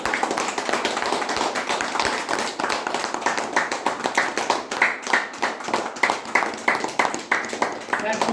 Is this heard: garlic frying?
no